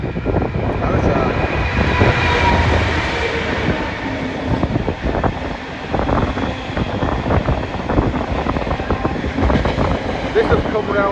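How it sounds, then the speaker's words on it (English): A long container freight train rumbles past nearby, steady clattering of wagons over the rails with rhythmic thumps, loud throughout. "Looks like a container train."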